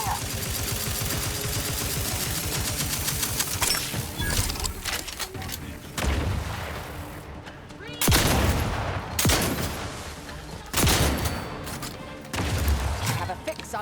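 Rapid bursts of gunfire in The Outer Worlds video game, with dense volleys and heavy impacts across the clip, under occasional game voice talk.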